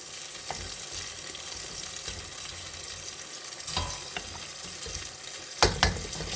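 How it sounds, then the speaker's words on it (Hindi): A pilao mixture fries in a pot with a low, steady sizzle, with the scrape and clatter of stirring at intervals and a louder pair of knocks near the end. No voices. "इसको अब अच्छी तरह भून लेते हैं"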